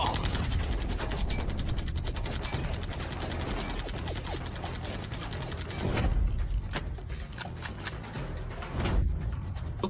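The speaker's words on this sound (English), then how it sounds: "Why did both guns jam at the same time?" Two guns jamming in an animated fantasy series, heard as a dense run of metallic clicks and ratcheting mechanism noises, with a couple of sharper clanks near the end, set against a busy, loud soundtrack.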